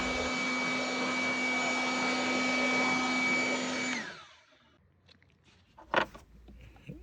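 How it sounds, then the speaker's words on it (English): A loud, steady whine of an air blower clearing dust and leaves from near the fuel tank of a 2015 Mercedes C300 runs for several seconds, then cuts off and winds down, followed by faint clatter and a sharp knock. "Then I will blow away so all the dust, leaves, whatever"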